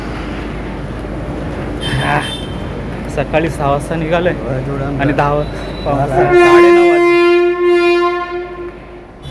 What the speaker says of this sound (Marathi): मित्रांनो फायनली आपण आलेलो आहोत नॅरोगेज ट्रेनच्या समोर